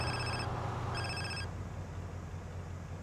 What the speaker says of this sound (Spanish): creo que me van a llamar por teléfono